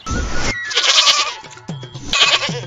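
A goat bleats loudly and close by, two wavering calls separated by a short pause with rustling in between.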